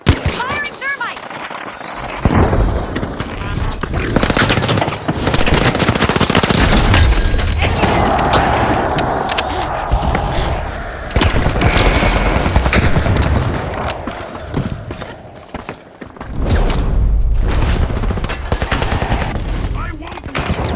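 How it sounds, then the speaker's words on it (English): Thermites fired in the video game The Finals go off as loud, rapid bursts of gunfire-like crackle and booms, with a quieter gap early and another dip near the end, under a commentator's voice. "Firing thermites."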